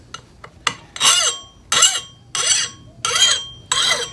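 A few light taps, then five raspy strokes of a file scraping across a steel axe edge with burrs in a steady rhythm, close up, each stroke harsh and gritty.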